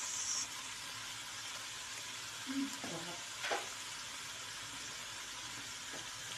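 Onion and egg frying in a pan give a steady, close sizzle throughout, with a few soft stirring scrapes.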